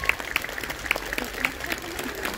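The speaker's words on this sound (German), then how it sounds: "Nochmal einen großen Applaus." Applause from a crowd at a St. Martin procession gathering in Bernburg, following confirmands who spoke; fairly faint, uneven clapping with a few sharper individual claps standing out over outdoor ambience.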